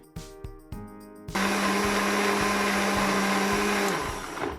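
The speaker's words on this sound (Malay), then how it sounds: "Kita blender hingga halus." A few short mechanical clicks, then a blender kicks on and grinds satay peanut sauce ingredients loudly and steadily before starting to wind down.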